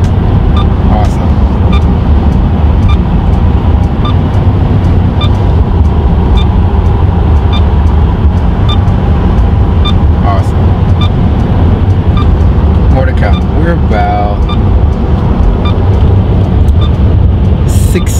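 A Tesla Model 3 moves through stop-and-go traffic on I-85 South, heard as a loud, constant low road and tire rumble from inside the cabin, with brief faint chimes and clicks above it and no talk.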